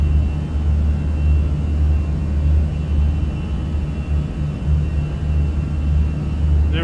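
Inside an A320 cabin in Microsoft Flight Simulator, seated near the engine, a steady loud low drone and whir of the engines runs continuously without pause.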